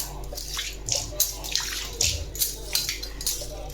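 Running water splashes while pans such as a flat griddle are washed and cleaned, a close, steady gush broken by irregular louder sloshes.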